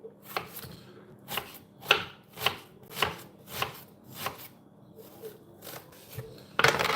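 A knife chops an onion on a cutting board in about ten crisp, evenly spaced strokes close to the microphone, with quiet pauses between them and a louder clatter at the end.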